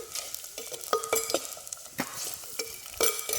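Sliced onions, added with green chillies, fry and crackle in a hot pan with a soft sizzle, broken by sharp clicks of stirring against the pan.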